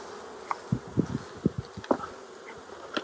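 Honey bees buzzing around a winterized hive in Tennessee in October, with scattered close buzzes flying past amid soft outdoor background noise.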